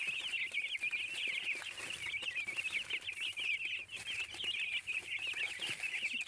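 Chicks and chickens on a small farm cluck and peep in a steady, busy stream, close and fairly loud, with no talking over them.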